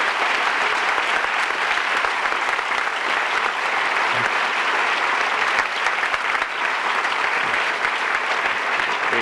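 A large audience applauds warmly and steadily for New Jersey Governor Florio at a 1993 award ceremony, dense sustained clapping filling the hall without talk.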